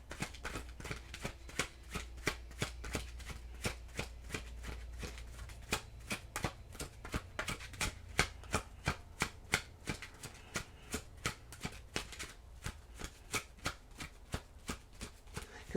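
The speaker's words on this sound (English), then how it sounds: "But let's get some tarot on this and get some details." Tarot cards are shuffled by hand in a long run of crisp, rapid riffling slaps and snaps, close and fairly quiet, with no talking.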